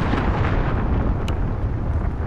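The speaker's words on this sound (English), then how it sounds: "Enemy cruise missile incoming!" A cruise missile explosion in a video game, a loud sustained rumbling blast that fills the whole moment with dense low roar, heard alone with no talk.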